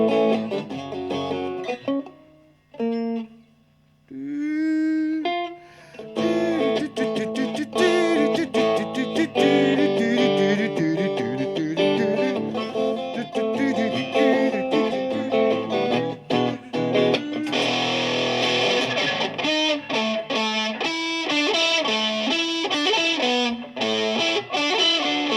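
Loud, heavily distorted electric guitar drives a full rock band arrangement, with a thick, saturated tone that barely lets up from start to finish.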